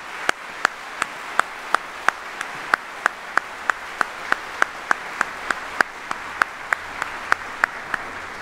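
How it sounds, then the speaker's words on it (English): Steady rhythmic applause from an audience at an Army retirement ceremony, regular distinct claps running evenly throughout with no voices over it, moderately loud and close. "please join me in a round of applause for these 35 incredible soldiers and ladies."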